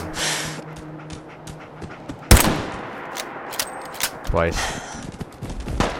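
Gunfire in the video game Fallout 4, a sharp loud shot burst near the middle followed by further scattered crackling shots, under a voice talking and breathing heavily.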